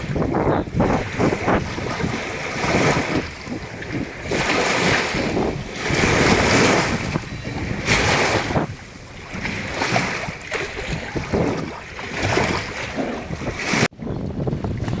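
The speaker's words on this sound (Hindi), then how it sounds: "आप ये लहरों की आवाज सुन रहे हैं, कितना सुंदर है ये लहरें माँ नर्मदा जी के।" Waves on the Narmada river wash and surge in steady broad swells, with gusting wind buffeting the microphone throughout, loud and close, no voices.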